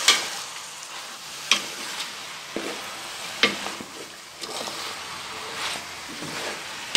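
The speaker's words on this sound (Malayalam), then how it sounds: "ഒന്നുകൂടെ ഒന്ന് ഇളക്കാം" Soya chunks for a Kerala-style soya chicken roast sizzle in a hot pan while a spoon stirs them, sharp scraping strokes recurring every second or so over a steady fry hiss.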